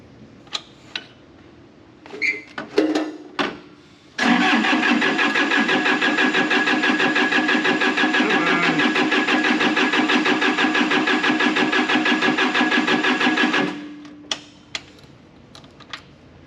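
Ground support equipment engine for an F-4 Phantom cranking and starting after a few clicks and knocks, then a loud steady mechanical drone for about nine seconds before cutting off, with no voices over it.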